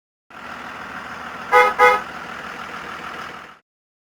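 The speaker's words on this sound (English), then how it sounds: "bus," A bus sounds its horn in two short honks over a steady engine drone, near and loud, with no voices.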